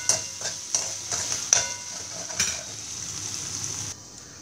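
Cauliflower bhaji being stirred in a pan, a steady sizzle of frying broken by several short scraping strokes of the spoon, close and moderately loud, with no voices.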